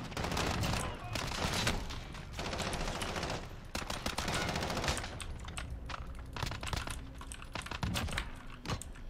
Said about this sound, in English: And we'll try the improvised pistol.